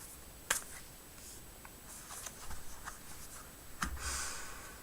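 Tarot cards shuffled during a live tarot and oracle reading: a couple of crisp snapping riffles stand out over quiet, soft card rustling, with no voices.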